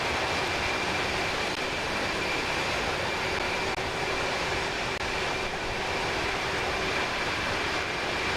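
Engines of an Inibuilds A300-600R airliner in flight in a flight simulator game give a steady, dense broadband roar with a faint tonal whine and no voices.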